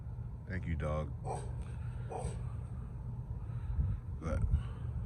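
A dog yips and barks in a few short bursts with a whimpering edge, close by over a low background rumble.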